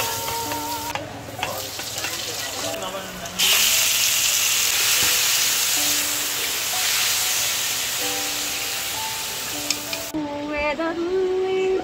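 Garlic and pepper fry for pansit in a hot pan, a loud steady sizzle and hiss that swells as ingredients hit the oil, with clanking utensils and faint background tones.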